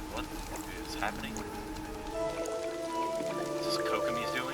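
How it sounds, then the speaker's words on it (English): Rain falling in the Genshin Impact video game world, a steady soft patter running beneath game music and loud speaking voices, building slightly in the second half. "rain? What is happening?"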